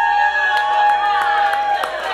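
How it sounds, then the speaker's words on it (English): A handful of audience members cheer for the Cubs at a live show: sparse, scattered whoops and shouts over a steady tonal hum, brief and thin rather than a full crowd roar. "I only heard 4 people in the crowd cheer for the Cubs"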